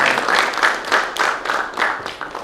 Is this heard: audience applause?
yes